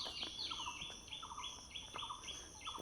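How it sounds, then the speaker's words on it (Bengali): Birds chirping in a quiet rural village, repeated bright tweets and calls in a regular pattern over soft background, with no traffic or voices. "এখানে আসলে শুধু আপনি পাখির কলকাকুলি কিচিরমিচির ডাক শুনতে পাবেন"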